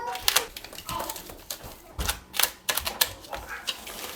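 Foam backer rod for caulking being cut during a kitchen makeover, giving a series of short, crisp snipping and crunching sounds in uneven clusters.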